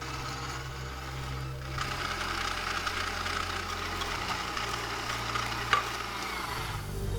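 Greek strained yogurt and sugar being mixed in a bowl, a steady continuous whirring and scraping that runs unbroken with a low hum underneath and a brief sharp tap near the end.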